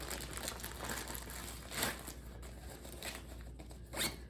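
A horseshoe zip opening on a KUIU PRO 6000 backpack, with a close, scratchy zipper run and crinkling fabric, rising in short bursts.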